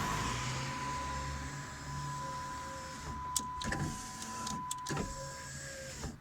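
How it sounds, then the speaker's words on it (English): A steady electric power window motor in a 2005 Dodge Dakota door whirs continuously with a faint whine while the loose window doesn't move, then stops and starts in short bursts near the end. "my window doesn't move, but I can hear my motor running"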